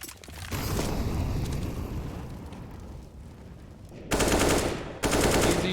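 Bursts of gunfire in a Counter-Strike match featuring the XM shotgun, a sustained rattle of shots followed by two sharp, loud bursts near the end, close and with no talk over them.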